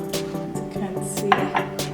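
Ice cubes drop into a glass of dalgona coffee over milk, giving several sharp clinks and knocks spread through the moment, close and clear over soft background music.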